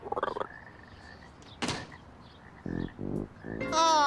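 Cartoon frogs in a restaurant give a few short croaks amid brief thunks and clatters, fairly close and punchy, ending in a rising musical flourish with no talk.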